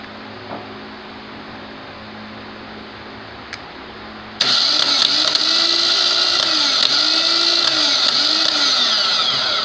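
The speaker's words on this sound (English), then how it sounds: "Just to get the Bendix to kick out like starting a motor or a starter drive." Chevy Aveo starter motor on the bench, energized so the Bendix drive kicks out: quiet handling noise, then a sudden loud whirring spin that holds steady with a high whine and repeated rising and falling pitch sweeps.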